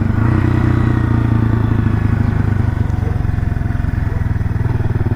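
A 1978 Kawasaki KL250 motorcycle with a newly installed carburetor runs steadily while being ridden, its single-cylinder engine thumping in a fast, even rhythm, loud and close throughout.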